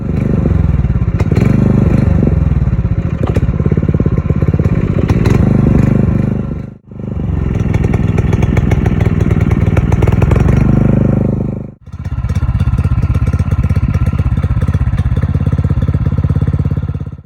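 Simulated small engine running on choke, a loud, rough, uneven putter with clattery firing, heard alone in three runs of several seconds each, with two brief drops where it nearly cuts out between them.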